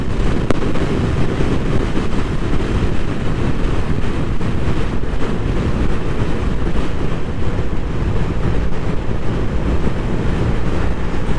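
A Vespa GTS 300 hpe scooter fitted with a J.Costa variator rides fast along a country road, a loud continuous roar of wind rush and engine drone with no pauses.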